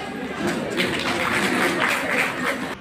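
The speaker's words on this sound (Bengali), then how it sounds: "জোরে হাততালি।" Crowd at a club's cultural evening honoring a poet applauds loudly and steadily, a thick wash of clapping with faint chatter and laughter mixed in.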